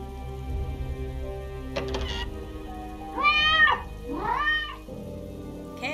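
Cat meowing in the video game Beholder: two distinct drawn-out meows in quick succession, clear and close over a low game ambience with a brief mechanical clatter just before.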